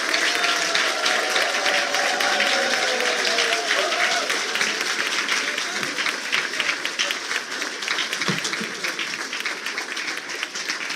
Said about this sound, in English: Please welcome our President with a rising round of applause.